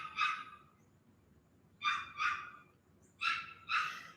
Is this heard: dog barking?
yes